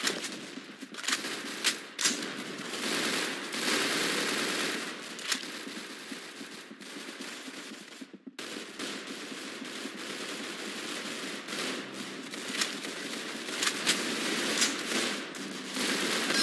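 Dense, continuous rapid gunfire from a video game, loud and crackling like automatic weapons, with only a couple of very brief breaks and no talking.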